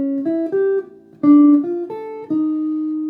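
Jazz guitar plays a slow back-cycle turnaround walk-up in rhythm changes, with clear single notes stepping up through arpeggios in groups, bright and close with no talk.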